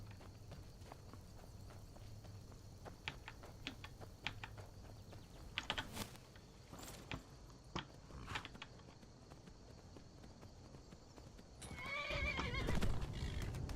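A horse in a video game whinnies and clip-clops, with scattered hoof clicks and keyboard-like tapping giving way to a louder, rising neigh near the end, all fairly quiet.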